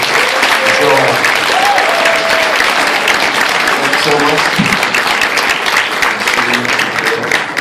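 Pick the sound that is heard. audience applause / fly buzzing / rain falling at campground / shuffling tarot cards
audience applause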